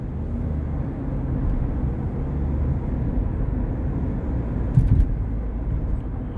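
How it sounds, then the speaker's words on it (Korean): A Kia Sportage diesel SUV under acceleration, its engine a steady low rumble heard from inside the cabin, rising gently with a brief knock near the end. "하지만 엑셀을 밟을 때 소음은 올라온다는 거 한번 소음 들어보실게요"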